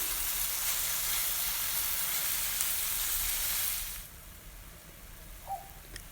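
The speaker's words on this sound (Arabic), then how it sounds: "فوحوا بالكدا اللحم المفروم" Minced meat sizzles steadily in a hot pan with turmeric, salt, spices and garlic, a loud even frying hiss that drops abruptly to a quieter simmer partway through, with a faint clink near the end.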